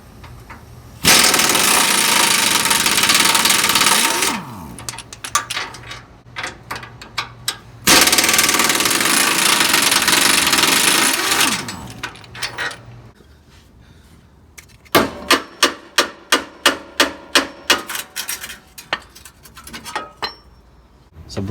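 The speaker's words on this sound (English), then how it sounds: "by using an 18mm socket and a 15mm wrench, let's go ahead and remove all 4 bolts holding on this cross member underneath the oil pan" Cross member bolts under the oil pan of a Ford 2.7 EcoBoost are run out with an impact gun and 18mm socket, two long loud whirring bursts, then a series of rapid ratchet-like clicks from the 15mm wrench.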